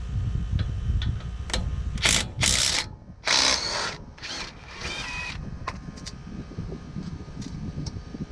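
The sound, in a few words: impact driver removing 9/16 brake caliper bolt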